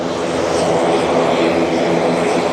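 Loud, steady aircraft engine roar at Tenerife South Airport, a broad continuous rumble and whine from a nearby plane filling the whole stretch with no talk over it.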